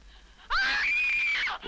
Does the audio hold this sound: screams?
yes